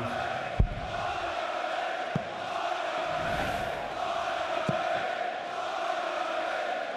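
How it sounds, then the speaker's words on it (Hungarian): Darts arena audience at the PDC World Championship stirring into steady, broad crowd noise with cheering that stays fairly even throughout, a few sharp knocks breaking through the wash. "El is ébredt a közönség most."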